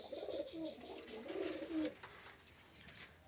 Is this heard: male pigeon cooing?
yes